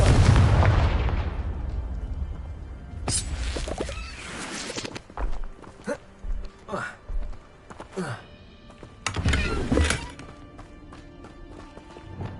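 A Confringo spell explosion from Hogwarts Legacy, a loud blast at the start followed by a string of sharp bangs, pops and rumbling impacts at close range, with no talking.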